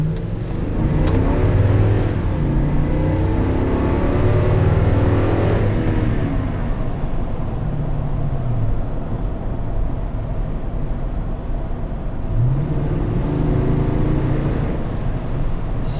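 A 2010 Toyota Sequoia Limited with the 5.7-litre V8 pulls hard under acceleration, its deep engine roar rising and holding loud and close with no talking.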